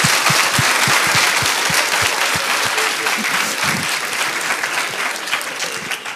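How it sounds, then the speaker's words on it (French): Lively applause from a roundtable audience in a hall, loud and dense with a few sharp individual claps, slowly easing off toward the end. "On peut les applaudir quand même"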